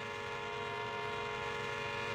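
A long train running in Trainz Simulator 3 gameplay, a steady continuous rumble with sustained tonal horn-like hum, loud and unbroken throughout.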